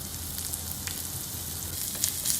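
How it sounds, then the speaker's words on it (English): Steamed carrots and baby corn sautéing in a pan with golden-browned garlic, a steady close sizzle with scattered sharp crackles and pops throughout, no voices. "Now let's add the steamed carrots and baby corn into the pan."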